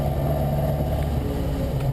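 A car accelerates hard on the Nürburgring during a Touristenfahrt, pulling out of the paddock toward the bridge; a steady, loud engine drone fills the whole stretch without pause.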